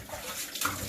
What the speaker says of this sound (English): A lot of water flowing out still